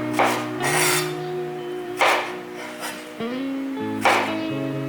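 A knife cuts eggplant into finger-length pieces on a board, with a few scraping, rasping strokes spaced about a second apart and faint clinks between them.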